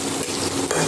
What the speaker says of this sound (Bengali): আগে পনিরটাকে ভালো করে ভেজে নিই